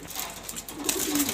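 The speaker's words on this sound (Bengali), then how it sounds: "ওই যে এটা মাদি কবুতর, এটা নর কবুতর।" Male and female pigeons in a loft coo softly and briefly up close, with a faint rustle behind the low calls.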